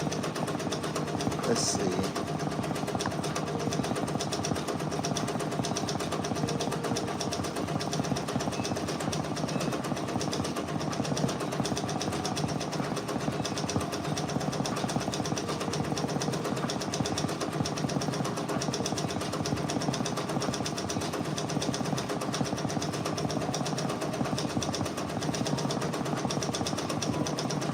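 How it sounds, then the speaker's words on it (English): An embroidery machine stitches out a Drake design patch, giving a steady, continuous mechanical whir and rapid needle chatter at even loudness throughout, with a person speaking briefly over it. "As we keep on stitching along, we are making this Drake design here."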